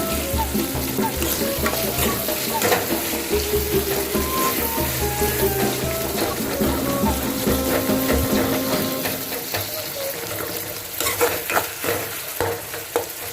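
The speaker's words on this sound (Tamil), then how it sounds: "வெட்டி வச்சு தக்காளியை போட்டு வதங்குற தக்காளி நல்லா வதங்குற அளவுக்கு நல்லா மசிய விட்டுக்கிறேன்" Chopped tomatoes sauté in a pan for a paneer gravy, giving a steady, loud sizzle with stirring and scraping throughout, easing slightly near the end before a few brief clatters.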